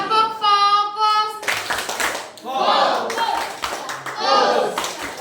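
A group of children in a physics classroom claps in a quick rhythmic pattern, chanting together in unison, with loud bursts of claps and voices alternating across the clip.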